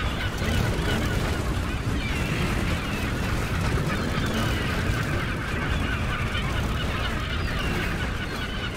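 A dense flock of geese honks loudly and continuously in the video game Brutal Legend, a thick, overlapping wall of calls that persists from start to finish.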